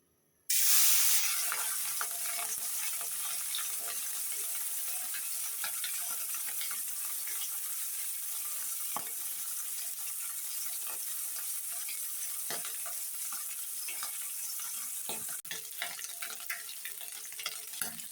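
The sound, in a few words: fish frying in hot oil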